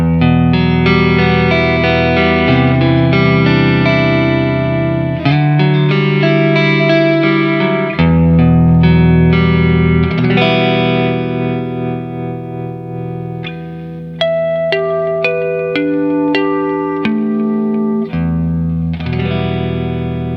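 Stratocaster-clone electric guitar on its neck pickup, run through effects, rings out in sustained chords and single-note lines with a warm, chorused and slightly distorted tone, loud and continuous for twenty seconds with no talking.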